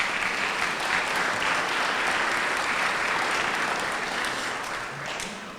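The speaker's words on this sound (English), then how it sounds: "let's give them a round of applause, please" Audience applause at a summer internship and job shadow program meet and greet, a sustained dense wash of clapping that holds steady and then gradually thins toward the end.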